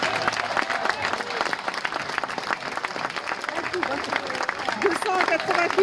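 Spectators applaud a weightlifter lifting a heavy bar, a continuous lively burst of clapping from a nearby crowd with some voices mixed in.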